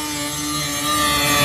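A Ski-Doo 600 RS snowmobile engine at speed gives a brief, steady, loud whine that edges up in pitch and volume.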